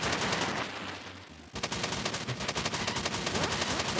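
Gunfire in the retro-style video game Retro City Rampage: rapid, steady bursts of shots fire in a dense stream, with a brief lull before the shooting resumes and continues unbroken.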